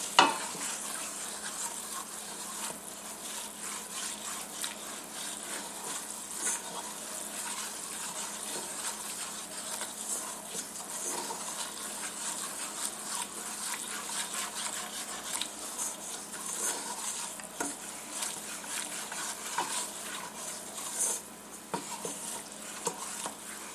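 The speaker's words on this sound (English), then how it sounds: "even though it's boiling and I've been stirring" A flour roux bubbles and sizzles steadily in a pan while being stirred, a faint, continuous hissing crackle with soft scraping and no talking.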